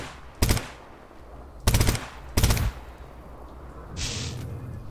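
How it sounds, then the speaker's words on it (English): Three short, loud bursts of automatic gunfire ring out from the video game Stalker Anomaly, each a rapid rattle of shots. A lower rumbling hiss of ambient game noise follows near the end. "Guys, could you please shoot those things?"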